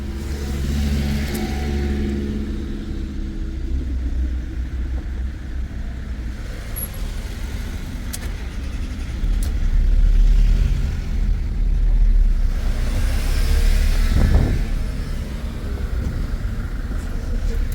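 A car engine starting and idling after a complete new starter kit was fitted, a low steady rumble running throughout with a swell in the middle, with brief talk nearby.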